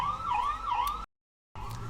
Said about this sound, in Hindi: तो एम्बुलेंस आ गई थी